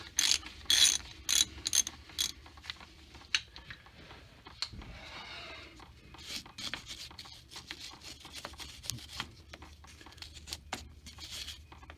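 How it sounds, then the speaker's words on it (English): Ratchet clicking as a brake hose banjo bolt is loosened on a 2004–2008 Ford F-150 truck, close, quick bursts of metallic clicks with short pauses between strokes. "Now, just take this banjo bolt off."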